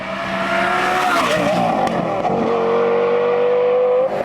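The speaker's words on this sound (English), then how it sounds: "we've got an aftermarket exhaust. No megaphones, just a straight performance setup" Lamborghini Gallardo V10 fitted with an aftermarket straight performance exhaust, no megaphones, roaring loud and close for about four seconds, its pitch sliding down and rising again in a sustained aggressive rev with a raspy edge.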